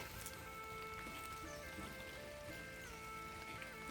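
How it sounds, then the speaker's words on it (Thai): Rain falls outdoors in a rural Lao setting as a faint, steady patter of drops on surfaces, spread evenly through the short stretch with no spoken words. "ฝนตกแล้วทุกคน"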